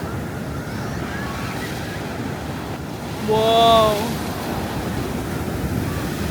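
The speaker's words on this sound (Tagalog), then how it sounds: "Laki ng alon." Big ocean surf roars steadily against the shore at Zambales in the Philippines, near a resort damaged by a typhoon, with wind buffeting the microphone. A voice briefly exclaims partway through.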